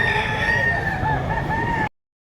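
A rooster crows loudly and close at a gamefowl market, a long sustained call that fills the clip among other birds and crowd noise before cutting off abruptly.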